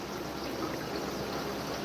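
Water running steadily through a homemade overhead sump in a pigpen, a soft, even trickling wash that is quiet and continuous throughout.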